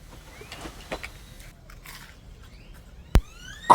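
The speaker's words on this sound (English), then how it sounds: "Did you hear that crunch?" A crunchy bite into crispy grilled food with melted cheese at a backyard Memorial Day cookout, heard as one sharp close crack near the end after a quieter stretch of faint chewing and mouth noises, with a second brief snap at the very end.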